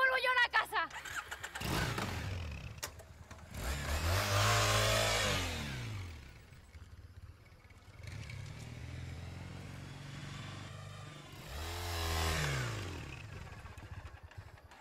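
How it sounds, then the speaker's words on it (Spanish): A motorcycle engine starting and revving, with two long swelling rev bursts that rise and fall and lower idling in between, heard near and fairly loud, with a voice speaking near the start. "Déjame subir en la moto."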